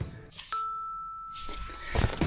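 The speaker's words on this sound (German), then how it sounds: "drücken wir am besten die Glocke?" A single bright notification bell ding rings out clearly and decays with a long shimmering tail, with faint voice before and after.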